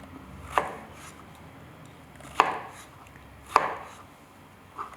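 Knife slicing vegetables into strips on a cutting board while preparing ratatouille, heard as three sharp, separate chops spaced about a second apart, with a fainter fourth at the end, close and moderately loud with no talking.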